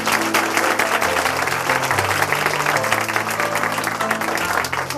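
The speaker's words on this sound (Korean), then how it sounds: "다시 한번 박수 부탁드릴게요." A church audience in Chuncheon claps dense, steady applause for several seconds over low background music, with no talking.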